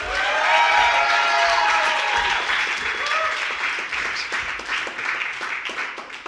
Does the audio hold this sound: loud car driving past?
no